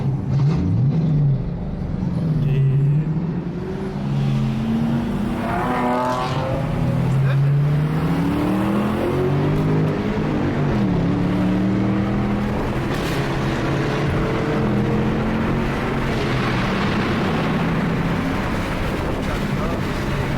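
A car revs hard and spins its tires in a burnout in an abandoned parking lot. The engine note rises and falls over a steady roar, and voices talk over it throughout.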